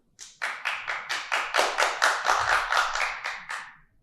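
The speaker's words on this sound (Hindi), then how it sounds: "इतनी जोरदार ताली पीट रहे हैं कि सबको ताली बजानी पड़" Hands clap loudly and steadily, about a dozen evenly spaced sharp claps in a row, close and alone with no talking.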